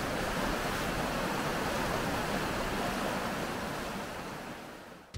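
River in Helen, Georgia flowing steadily, a loud, continuous rushing wash of water close by that holds even throughout, easing slightly near the end before a brief bump.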